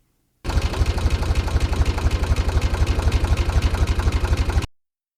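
A looping video game engine sound plays alone: a steady, rapid, evenly pulsing idle chug with a deep rumble, lasting about four seconds before cutting off.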